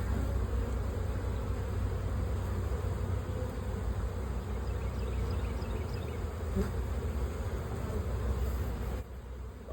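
Honeybees swarm around an open hive box in a dense, steady buzz that holds for the whole stretch, close and fairly quiet with no voices.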